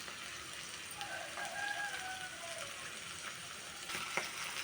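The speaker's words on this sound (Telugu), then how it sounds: "ముందుగా పచ్చిమిర్చి ఉల్లిపాయ ముక్కల్ని ప్యాన్లో వేసానండి, ఆయిల్లో. దీనిలో కొద్దిగా జీలకర్ర వేస్తున్నాను." Green chillies, onion pieces and cumin seeds frying in oil in a pan, a faint steady sizzle running throughout with a few light stirring clinks.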